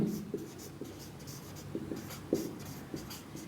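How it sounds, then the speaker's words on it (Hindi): A pen scratches across paper as lecture notes are written, a run of soft, close, irregular strokes and taps with brief pauses between them. "तो इसको लिख लेंगे"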